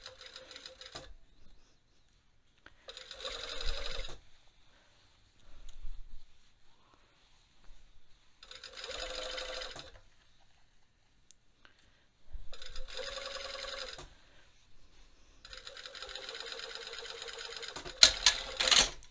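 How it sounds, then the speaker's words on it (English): A sewing machine topstitches a dress neckline in five separate bursts of fast, whirring needle stitching, each lasting a second or two, with quiet gaps between them and a brief clack at the end. "so that we could easily top stitch that without it looking funky"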